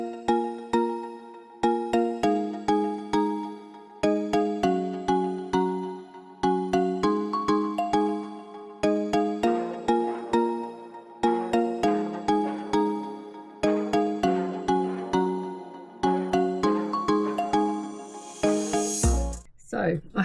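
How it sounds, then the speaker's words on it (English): A mobile phone rings with a repeating melodic ringtone, a cycle of bright synthetic notes that recurs steadily for about twenty seconds, loud and close, ending in a brief rustle of handling. "my phone's ringing now"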